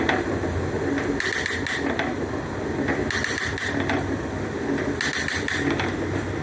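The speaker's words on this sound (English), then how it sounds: "You can hear it cutting, and you can actually hear the chips falling on the floor as well." An Atlas 7A metal shaper cutting steel, with a steady mechanical drone and periodic scraping strokes recurring roughly every two seconds, plus small clinks of chips dropping to the floor, fairly loud and close.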